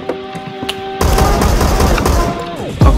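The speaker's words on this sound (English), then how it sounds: "I'm shooting at nothing right now" Gunfire from a gun in the Phantom Forces video game, with scattered shots at first and then a sustained loud burst of rapid automatic fire that runs to the end, with a heavier boom near the close.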